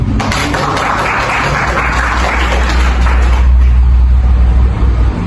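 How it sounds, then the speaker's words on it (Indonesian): Students in a classroom applaud during an Islamic religious education lesson at a college, a dense, steady wash of clapping that runs loud and unbroken for the whole stretch, with no voices standing out. "Beri tepuk tangan dari."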